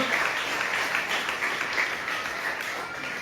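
A church congregation applauds at an anniversary service, a dense, even wash of many hands clapping at close range for the whole stretch, with no speech over it.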